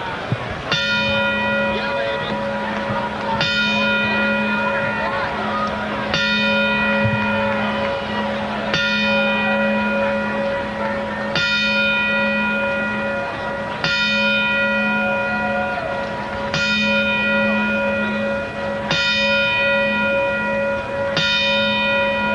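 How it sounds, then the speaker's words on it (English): A boxing-event bell rings out a traditional ten-bell memorial salute, each clear metallic strike evenly spaced a couple of seconds apart, its ringing tone sustained between hits, with a faint crowd murmur underneath. "At this time, we would like to play our traditional 10-bell salute in his memory."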